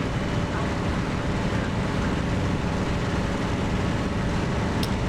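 A Spitfire's engine drones continuously inside the cockpit of a flight sim game, running rough with a dense, gritty, steady rumble at a constant loud level and no pauses.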